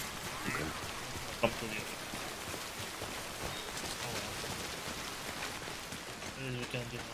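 Steady rain hiss falls across the whole stretch in the video game Death Stranding, a dense even wash with a brief louder splash near the start, while someone talks over it.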